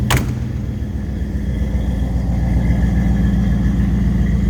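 A 1934 Buick Series 60 Sedan street rod engine idles steadily with a deep, throaty exhaust rumble, loud and close, after a brief sharp start at the beginning.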